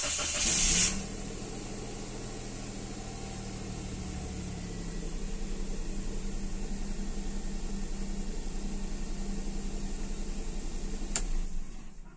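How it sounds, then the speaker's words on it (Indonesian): A Toyota Agya 1000cc automatic idles smoothly with a steady, even low hum, heard close and alone, with a brief hiss at the start. "suara mesinnya itu halus banget"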